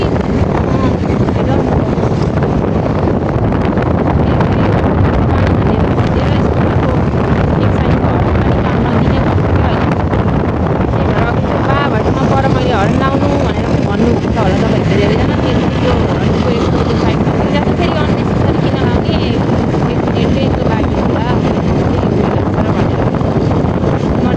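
Steady wind rushes and buffets the microphone, a continuous loud roar with no letup from start to finish.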